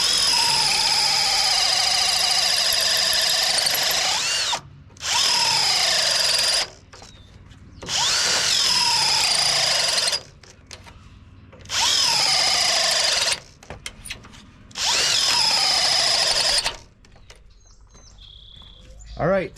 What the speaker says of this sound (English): it's pretty much impossible to drill through these truck frames without a mag drill